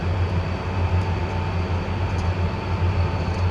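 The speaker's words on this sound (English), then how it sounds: "a train's going through my backyard in real life" A real freight train passes behind a house in a backyard setting, producing a loud continuous low rumble with a steady droning tone and broad roar throughout. There is no talking.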